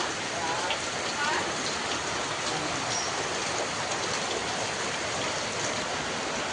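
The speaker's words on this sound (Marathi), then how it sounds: "संध्याकाळचे वाजले 6 आणि मुसळधार पाऊस चालूच आहे." Heavy monsoon downpour in the Konkan countryside on an evening, a dense continuous hiss of rain hitting surfaces, close and loud, holding steady from start to finish.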